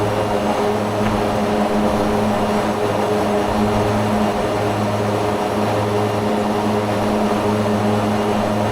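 Steady, loud drone of an MU-2B-60 turboprop on final approach in a flight simulator, with strong low engine tones and propeller hum holding constant throughout, no voices.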